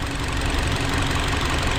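A Hyundai Sonata New Rise engine runs with its oil filler cap open, giving a loud, steady, close-up idling drone with a rough, continuous rumble throughout.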